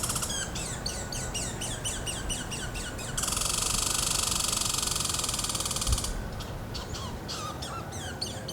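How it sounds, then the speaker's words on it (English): Crows cawing and small birds chirping in a forest, with repeated calls throughout and a steady hiss of wind through the trees in the background, the birdsong fairly close and clear. "you can hear the birds chirping"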